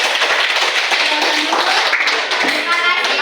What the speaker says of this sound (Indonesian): Tepuk tangan untuk Andre dulu.